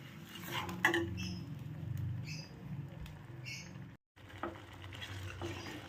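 A ground spice paste with coriander leaves being sautéed in oil over a low flame, with a soft continuous sizzle and occasional scraping and stirring clinks of a utensil against the pan.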